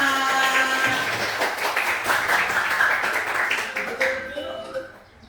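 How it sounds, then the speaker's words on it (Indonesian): A junior high school class claps for itself after singing a patriotic song, with continuous mixed handclapping under the teacher's and pupils' voices, thinning out toward the end. "tepuk tangan buat kita"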